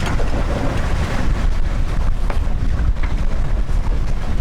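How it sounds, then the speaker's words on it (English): Sailboat motoring downwind under engine while the spinnaker is raised, with heavy wind buffeting the microphone over a steady engine drone and water wash, loud and continuous, no speech. "we're gonna turn on the engine, drop the mainsail, raise the spinnaker"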